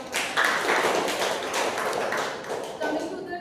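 Audience applause at a Toastmasters club chapter meeting, a steady, dense wash of clapping from a room of people that stays fairly loud for several seconds before thinning slightly at the end.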